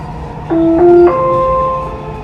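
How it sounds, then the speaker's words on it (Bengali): A Dubai Metro train moving, with a steady close rumble and rising electric whine tones that climb in steps as it accelerates, with no voices. "এই যে গাইস মেট্রোটা কিভাবে উঠতে আছে।"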